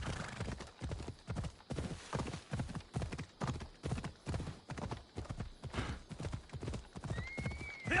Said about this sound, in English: Don't think my horse like jumping that far.